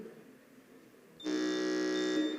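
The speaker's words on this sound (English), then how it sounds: "I would like to hear the sounds of your buzzer before we begin." A quiz contestant's buzzer tested before a school quiz round, one loud sustained electronic tone lasting about a second after a quiet room.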